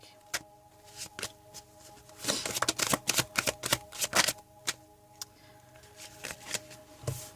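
Tarot cards shuffled by hand, a close, rapid flurry of riffling slaps building to a dense burst, then scattered single taps over a steady faint hum.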